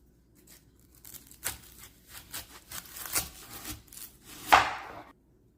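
A large onion being chopped on a board, with a series of soft knife strokes and cutting rubs that build toward one louder chop near the end, close and quiet with no talk.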